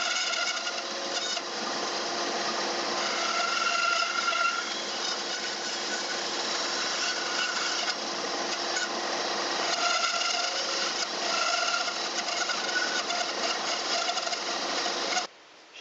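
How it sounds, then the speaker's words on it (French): A band saw fitted with a 6 mm blade cuts through wood for a wardrobe partition, giving a steady, continuous buzzing rasp that holds for about fifteen seconds before stopping abruptly. "Il reste cette petite partie ici à retirer à la scie à ruban."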